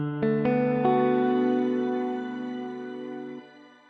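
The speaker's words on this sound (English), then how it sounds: "The next setting is the choral reverb." Guitar notes played through a Folktek Alter Y effects pedal on its choral reverb setting, a few plucked tones that swell into a sustained, shimmering chorus-like wash and slowly fade away.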